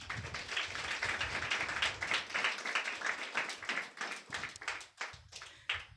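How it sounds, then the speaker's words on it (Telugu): A church congregation claps together during a Sunday service, a faint, dense patter of many hands that carries on for several seconds before thinning into a few scattered claps near the end. "చప్పట్లు కొడతారా?"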